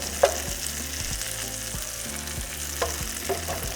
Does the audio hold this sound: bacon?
yes